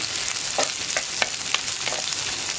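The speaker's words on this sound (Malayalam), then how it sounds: "നമ്മൾ കട്ട് ചെയ്ത് വെച്ചിരിക്കുന്ന ഉള്ളി, വെളുത്തുള്ളി, അതുപോലെ തന്നെ പച്ചമുളക് ഇത്രയും ചേർത്ത് കൊടുക്കാം. ഇതൊന്ന് വഴറ്റിയെടുക്കാം" Chopped onion, garlic and green chilli sautéing in a pan, a bright continuous sizzle with several sharp spoon scrapes and stirs at an even pace, close and alone without speech.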